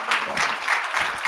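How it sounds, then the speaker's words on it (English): Brief burst of audience applause at a health event, a dense, loud patter of many hands clapping at once for just over a second. "Give them a round of applause."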